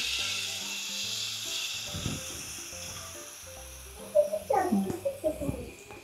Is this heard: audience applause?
no